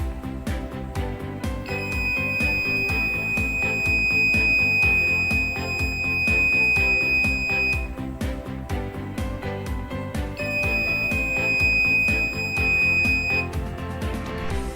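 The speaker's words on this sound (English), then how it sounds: "the alarm will on to indicate a warning for visitors not to entering the premise" Electronic warning alarm at a premises entrance signalling the visitor limit has been reached, a loud steady high-pitched tone that sounds for about six seconds, pauses, then sounds again over a busy background.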